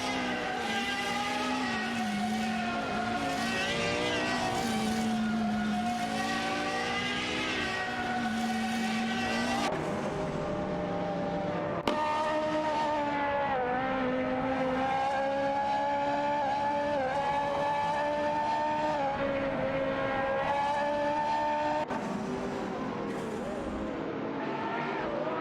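Race cars in an AI racing video game, engines whining in continuous rising and falling tones as cars overtake, loud and unbroken with shifts in pitch as gears change and cars pass.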